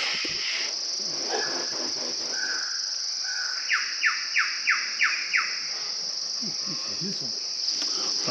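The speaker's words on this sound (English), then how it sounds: "You can hear a bird of paradise up the top." A bird of paradise calls high in the canopy of a tall tree in a remote forest, giving a short run of five quick descending notes over a steady high insect drone and faint rustling.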